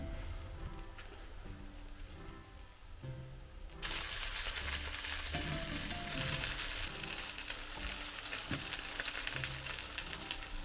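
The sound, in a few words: Cretan Sfakiani pita frying in a pan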